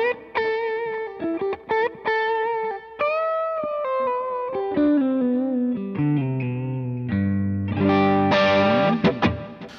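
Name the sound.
electric guitar through POD GO Mora Preset JM with effects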